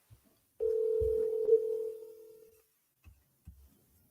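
A single steady telephone tone on an unanswered cold call for commercial real estate holds for about two seconds and fades, followed by a few soft low thumps in a quiet room.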